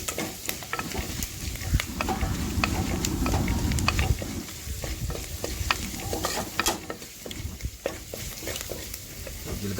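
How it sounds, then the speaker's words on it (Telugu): Garlic frying in hot oil in a pan for Nalleru pachadi, a steady close sizzle with frequent clicks and scrapes of stirring throughout and no talking. "చూసారు కదండి, ఎల్లిపాయలు ఫ్రై అవుతున్నాయి"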